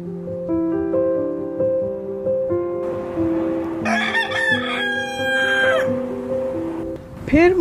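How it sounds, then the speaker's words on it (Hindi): A rooster crows loudly and close by, several drawn-out calls overlapping, with hens clucking around it. "फिर मैं लेके आई तगड़ा वाला मुर्गा, इसका नाम मैंने रखा रुस्तम।"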